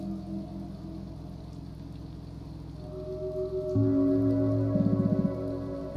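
Steady rain patters in the video game Hillside Arcade, a constant soft wash with a low tonal drone that thickens partway through.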